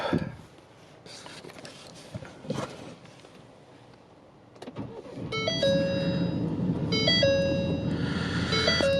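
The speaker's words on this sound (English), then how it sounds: "Let's start this guy up." A 2019 Ford Ranger Lariat pickup sits quiet for a few seconds, then its engine starts and settles into a steady idle while tonal interior warning chimes ring repeatedly over it.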